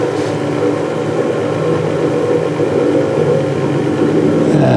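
A 1960s wheel balancer spins steadily with a continuous mechanical whir and hum, loud and close, holding an even drone with no voices over it.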